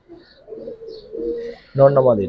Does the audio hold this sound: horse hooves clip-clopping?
no